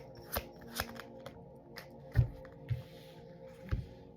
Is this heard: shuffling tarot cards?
yes